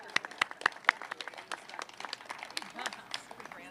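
Audience applause at a city bridge replacement announcement, a crowd clapping steadily with a few sharp claps standing out early, moderately faint with background murmur.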